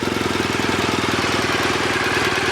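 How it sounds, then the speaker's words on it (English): A motorbike pulls away as its clutch is let out, the engine chugging with an even, rapid mid-pitched pulse at steady close volume, without any sharp revving. "I'm releasing the clutch so the bike wants to start moving."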